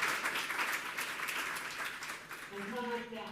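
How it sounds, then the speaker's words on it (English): Applause from a conference audience marking a ten-year anniversary event, a steady wash of clapping that carries on throughout, with a voice speaking over it near the end. "how refreshing it is to hear the applause in the background"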